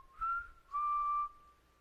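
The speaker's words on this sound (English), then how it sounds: "That's when I heard the first whistle." Two thin, high whistled notes, each held briefly with a slight rise, sounding soft and distant against a quiet background.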